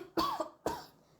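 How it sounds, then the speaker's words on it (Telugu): A woman with a cold and fever coughs twice, close and sharp, the bursts about half a second apart in a quiet indoor room. "సారీ అండి, దగ్గొస్తుంది."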